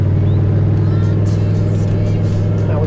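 A Toyota 1UZ turbo V8 idles and runs steadily at low throttle, a loud, constant deep drone with a strong low hum throughout, close up and uninterrupted.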